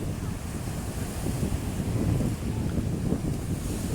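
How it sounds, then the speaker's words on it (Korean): Strong wind and big surf at White Beach on Boracay, with gusts buffeting the microphone over a continuous roar of crashing waves, loud and unbroken with no talking. "굉장히 바람이 세고 파도가 굉장히 셉니다"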